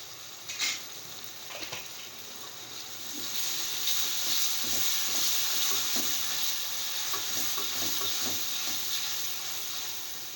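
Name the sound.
garlic ginger paste frying in a pan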